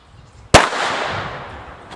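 A TRMR airsoft grenade with a new base detonates in one sudden, loud crack up close, followed by a long hissing rush of gas that slowly fades over the next second and a half.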